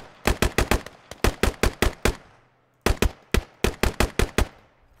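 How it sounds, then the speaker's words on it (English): Gunfire in a squad-based military video game, loud close bursts of four to six sharp shots in a steady rhythm, separated by a short pause, with no talk. "we're under heavy fire from this direction as well"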